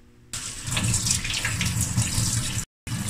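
Tap water runs steadily over flattened rice (chuda) in a strainer during washing, a close, constant splashing rush that starts suddenly and briefly cuts out near the end.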